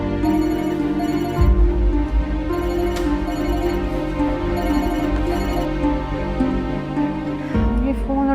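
A telephone rings in short repeated electronic bursts during a drama scene, sounding over a loud sustained musical score.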